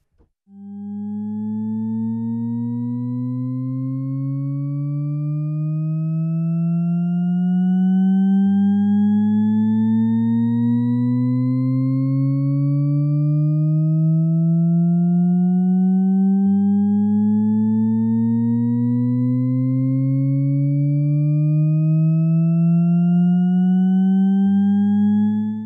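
A Shepard tone synth patch built in U-He Zebra2 glides endlessly upward, a loud, steady stack of rising sine-like tones that seem to climb forever, repeating in smooth overlapping cycles without pause.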